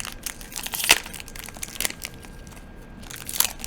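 A foil booster pack of Magic: The Gathering cards is torn open, giving close crinkling and crackling of foil wrapper with a few sharper rips, fairly quiet and without speech.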